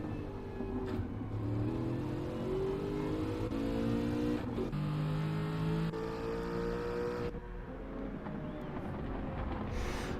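GT4 race cars racing at Laguna Seca: a steady, loud engine drone with rising and falling gear-change whines as several cars accelerate through corners, continuous and close, with no talking.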